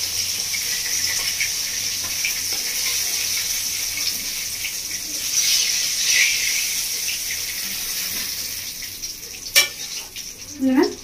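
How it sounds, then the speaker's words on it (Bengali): Bhetki fish fries in a pan, a steady moderate sizzle running throughout, with a couple of sharp clinks and a short scraping stir near the end. "এক খোলা ভেজে নিয়েছি, আর এক খোলা মাছটা ভেজে নেব।"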